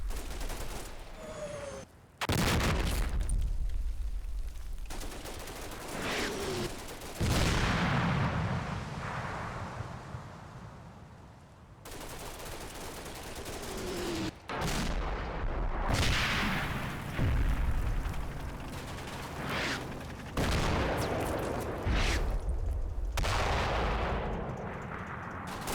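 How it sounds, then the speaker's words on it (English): Heavy machine gun fire from a Churchill tank in the Combat Mission wargame, Operation Epsom, a loud game battle soundscape of repeated gunfire bursts and booming blasts continuing for about twenty-five seconds, no talking. "While HMG suppressive fire from the Churchill is directed at Dietrich."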